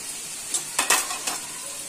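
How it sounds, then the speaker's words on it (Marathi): Tomatoes drop into a pan of frying rice, setting off a steady sizzle with a few sharp stirring scrapes bursting through near the microphone. "टोमॅटो घालून घेऊया. टोमॅटो घातले आपण."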